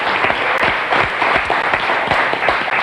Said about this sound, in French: On vous applaudit pour vous accueillir